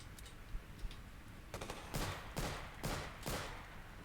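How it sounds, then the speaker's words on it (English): Pistol shots fired in a VR video game, four sharp broadband bursts in a steady rhythm over the second half, each with a short tail, above a low rumbling background. "Let's just shoot with a pistol."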